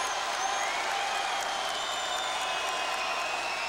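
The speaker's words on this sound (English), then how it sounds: "Some clapping at the foul line" Crowd applause at a high school basketball state final as a player steps to the foul line, a steady wash of many hands clapping throughout, fairly even in level with faint crowd murmur.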